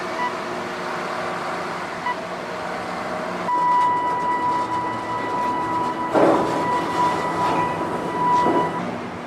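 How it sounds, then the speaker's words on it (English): A remote-controlled scrap bucket train at a steel mill rumbles steadily along the rails with a sustained metallic whine and occasional clanks, moderately loud and close throughout. "The scrap bucket train will take it directly into the steelmaking mill."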